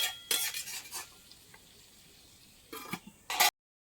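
Goat meat frying in oil as it is stirred, a few sharp scraping strokes of a spatula against the pot at the start and end with a faint sizzle in the quiet stretch between, close up and without talk.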